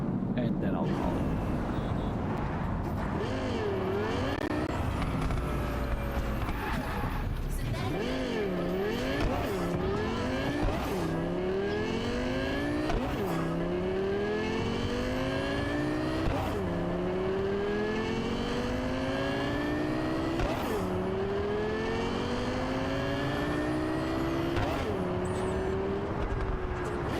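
A car race in the video game Cyberpunk 2077, with a loud engine revving through repeated upshifts, rising whines that drop at each gear change, and bursts of acceleration that carry on steadily. The game audio plays continuously, and speech is present.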